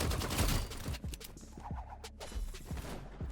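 Rapid gunfire bursts in the video game Rivals, a loud flurry of shots at first easing into scattered individual cracks and thumps spread across the moment.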